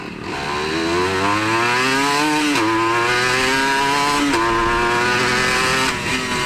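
A 1996 Honda NSR 150R two-stroke motorcycle engine revs hard and close, its pitch climbing in repeated sweeps, dropping briefly between pulls, then rising again.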